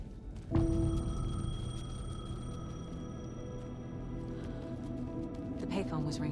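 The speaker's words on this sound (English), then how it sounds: "The payphone was ringing." A payphone rings inside the video game Alan Wake 2: a sustained electronic bell tone that starts abruptly and holds steadily over a low background hum, loud and close, with game ambience around it.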